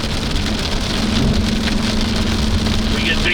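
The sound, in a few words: big hail hitting a car during a tornado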